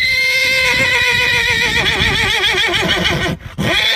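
A horse gives a long, loud, wavering whinny that rises and trembles for several seconds before cutting off briefly, then resumes, heard close and alone.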